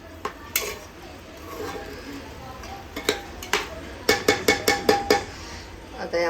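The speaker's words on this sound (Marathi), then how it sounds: "इथे सगळ्या भाज्या घातलेल्या आहेत मी आणि छान असं आता हे परतून घेते" Vegetables are stir-fried in a metal pressure cooker, with a spoon clinking and scraping in a quickening run of sharp, close knocks over a low background murmur.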